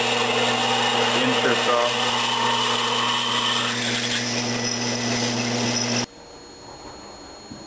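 Lathe boring into a brass powder trickler makes a loud steady machine whine with a tonal hum and cutting noise that stops abruptly near the end, while someone talks over it.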